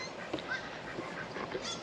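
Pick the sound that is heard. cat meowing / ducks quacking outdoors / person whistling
ducks quacking outdoors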